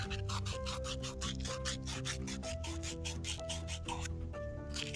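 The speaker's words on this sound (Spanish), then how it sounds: "Lijas bien tu cople, bien lijadito." Rapid rhythmic rubbing and scraping of sandpaper on a copper fitting, a quick back-and-forth rasp repeating steadily over a tonal background hum.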